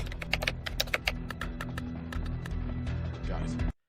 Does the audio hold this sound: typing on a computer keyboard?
yes